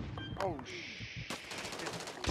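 Revolver gunshots in Call of Duty MWIII, a few sharp reports mixed with game sound effects and a brief voice, with one shot followed by a louder ringing burst.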